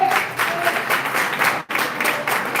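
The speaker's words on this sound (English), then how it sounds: "It really should have been a better clap." Audience applause at a village meeting in Dolton, a dense steady patter of many hands clapping close by, with a brief dip partway through before the clapping continues.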